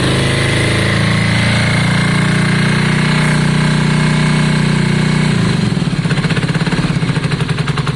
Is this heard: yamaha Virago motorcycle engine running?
yes